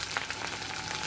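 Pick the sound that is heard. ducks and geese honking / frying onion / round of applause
frying onion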